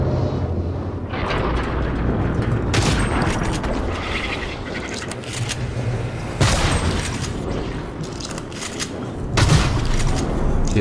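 Shotgun blasts in the game Prey (2017) fire off in a few sharp, booming reports spaced several seconds apart over a dense, rumbling backdrop of game noise.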